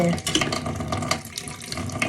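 Cold tap water runs steadily over spring onions being washed under the faucet, a soft continuous splashing hiss with small irregular spatters as the stalks are rinsed.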